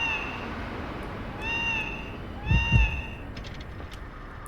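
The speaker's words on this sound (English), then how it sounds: "My cat is so close." A cat meows twice, close by, each call rising and falling, with a faint low thump between them over a quiet, steady background hum.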